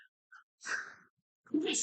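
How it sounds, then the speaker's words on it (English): A sharp, close sneeze bursts out after a quick intake of breath, then a second short breathy burst follows moments later. "I'm sneezing my tongue off."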